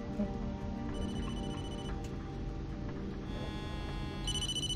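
A telephone rings steadily in the Blair Witch video game, a faint electronic ring tone repeating over a constant low ambient hum, with no talk.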